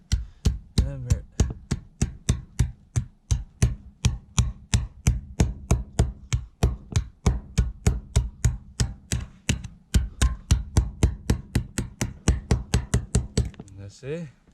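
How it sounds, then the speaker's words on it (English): A metal standing seam roof panel, trimmed and bent, is struck with a hammer in a long run of evenly spaced, sharp close knocks, one after another, with no talk. "And then you just hammer it."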